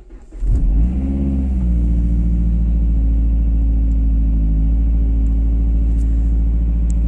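A Mazda RX-8 rotary engine cranks and fires up, then settles into a loud, steady, throaty idle with a deep rumbling exhaust.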